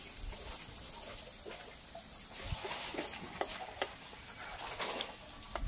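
Fried spices poured into a kalmi shak and matar dal, making a soft, fairly faint sizzle with a few sharp ticks and pops as the hot mixture meets the liquid, no voices.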